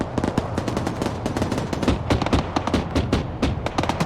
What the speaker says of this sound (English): there's the mortars getting dabbed on.